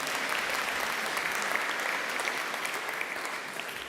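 Dense, steady applause from a graduation ceremony audience fills the hall for a few seconds, tapering slightly near the end, with no talk over it.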